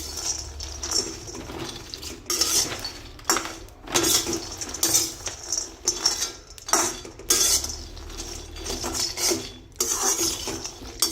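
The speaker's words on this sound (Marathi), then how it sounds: "आता हे भाजून घ्यायचे आहे हलकेसे." Almonds and cashews dry-roast in a pan, heard as repeated scraping stirs and clattering nuts against metal in uneven bursts, with clinks of a utensil and quieter pauses between strokes, close and fairly loud.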